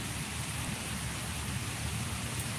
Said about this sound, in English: It's getting cold out here, y'all. All this rain.